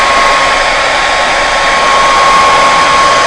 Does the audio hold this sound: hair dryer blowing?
yes